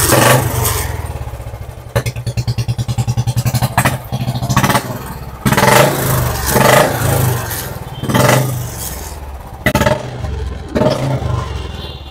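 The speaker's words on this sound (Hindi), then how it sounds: "इसमें आप लोगों को साउंड एग्जॉस्ट मिल जाएगा, यानी कि लाउडर वाला साइलेंसर मिल जाएगा" A second-hand Royal Enfield Bullet motorcycle fitted with a louder aftermarket exhaust runs close by, its thumping single-cylinder beat pulsing rapidly, then opening into several loud revs and blips.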